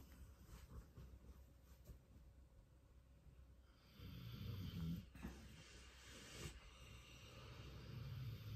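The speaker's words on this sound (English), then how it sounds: "It's like the snoring orchestra in the background." Faint, low, rhythmic snoring from sleeping dogs rises and falls in the background of a quiet indoor room, with no voices.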